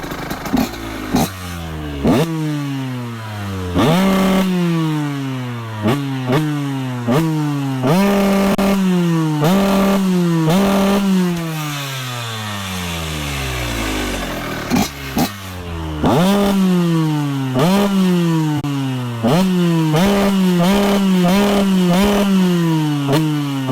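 Warmed-up motorcycle engine revving hard through a hot exhaust pipe, repeated sharp throttle blips rising and falling in pitch, loud and close with short idle gaps between bursts.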